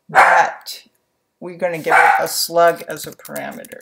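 A dog barks in the background while someone talks continuously, the bark brief and partly buried under his speech.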